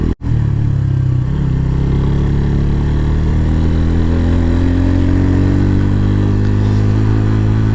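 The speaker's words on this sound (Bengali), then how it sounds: "ইঞ্জিনে কিন্তু অনেক সাউন্ড অ্যান্ড ভাইব্রেশন করতে পারে" Motorcycle engine on a hilly mountain road toward Keokradong, held in engine braking on a downhill, giving a steady low rumbling drone that is loud and close and continues without a break. A brief dropout comes at the very start.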